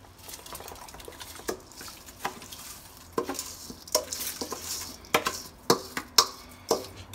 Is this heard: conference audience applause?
no